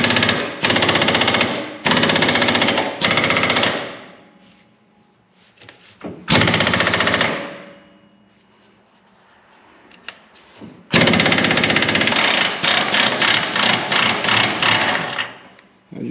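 Pneumatic impact wrench hammering at a tight nut on the steering and suspension of a 58-year-old car, loud rattling bursts with pauses between, the last burst long and stuttering.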